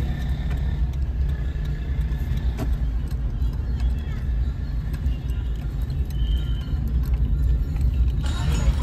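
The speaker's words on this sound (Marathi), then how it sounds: "आता आपण गाडी पार्क केलेली आहे" A car idles and settles into a parking spot near the Ram temple in Chaphal village, a steady low engine rumble close by with faint clicks and rattles over it.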